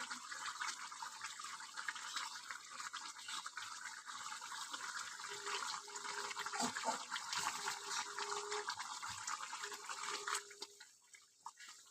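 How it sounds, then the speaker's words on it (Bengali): Meat curry simmering in a covered pot, a steady close hiss and bubbling that runs throughout before quieting near the end. "মাংসটা আমার ফুটে এসছে, এবার আমি গরম মশলা দিয়ে দেবো।"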